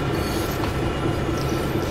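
Steady rumbling roll of a freight train with hopper cars in Train Sim World 2, heard from the rear car, a dense continuous rail noise with faint squeals and no talking.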